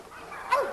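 Bully-breed bitch in a dog yard giving a short faint whimpering yelp, a single brief rising cry over quiet outdoor background.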